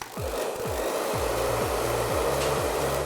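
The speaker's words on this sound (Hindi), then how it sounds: "ये हेयर ड्रायर हमने लिया है एंड इसको हीट करना है।" Handheld hair dryer heating up, a steady loud broadband blowing roar running throughout, with a few low descending tonal sweeps passing underneath.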